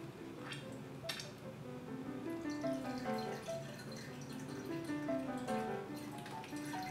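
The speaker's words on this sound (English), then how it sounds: "Just take your waste bucket, some DI water, and just rinse it directly" Deionized water rinses out of a volumetric pipette into a waste bucket, a continuous trickling stream with pitched gurgles and drips, heard alone.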